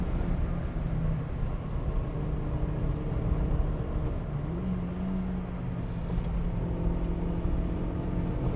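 A car on worn second-hand winter tyres drives a lap of the Nürburgring, giving a steady, moderate in-cabin rumble of engine and tyre roar with a gear-shift note change midway.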